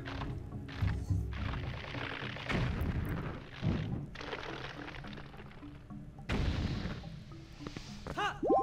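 Bomb explosions in Zelda: Twilight Princess HD, several loud booming bursts over a busy game soundtrack and effects, with heavy low thumps recurring through the stretch.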